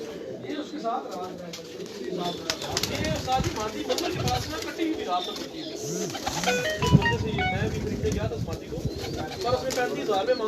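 Gola pigeons cooing in a rooftop loft alongside other birds, with repeated soft coos and chirps mixed under steady background chatter and voices nearby.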